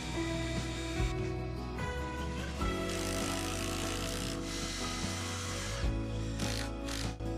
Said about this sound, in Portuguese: Vou cortar suportes para fixar a base ao tronco e novamente serão moldados à mão.